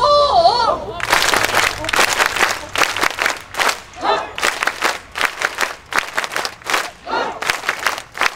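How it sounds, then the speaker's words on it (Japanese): Sanbon-jime ritual clapping closing an Asakusa taiko festival, a crowd clapping together in sharp synchronized rhythmic groups after a brief call, loud and close. "3本締めでございます"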